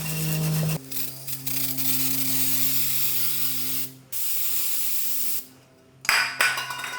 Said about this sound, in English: let's grab some engine degreaser and we'll spray that on there first